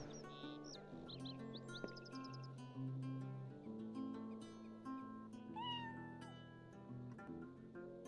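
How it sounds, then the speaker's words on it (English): A cat meows repeatedly in Lord of the Rings Online, several short rising calls over steady in-game ambient music and bird chirps, moderately loud, with no talk. "I can hear a cat."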